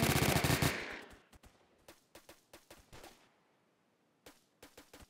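Gunfire in the video game Roblox Phantom Forces: a loud rapid automatic burst opens, followed by scattered single shots and short clusters of quieter, more distant gunfire.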